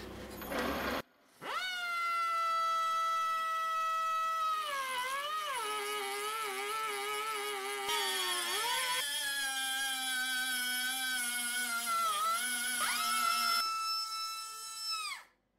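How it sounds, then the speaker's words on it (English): An air-powered die grinder with a 10mm ball grinding stone, run freehand in a workshop, gives a sustained high, tonal whine for about fifteen seconds, its pitch dipping and recovering as the stone bites into the work. "I will just freehand this with the air die grinder and a 10mm ball grinding stone"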